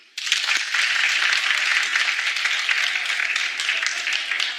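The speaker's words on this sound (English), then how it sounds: "clap if you do it." Studio audience at a daytime talk show breaking into applause, starting abruptly after a brief quiet moment and continuing as a steady, bright crowd clapping.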